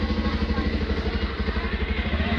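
Motorbike engine running close by, a loud pulsing low throb with a steady rapid rhythm and some rattling, continuing throughout with no talking.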